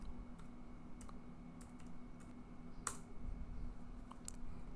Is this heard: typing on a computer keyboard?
yes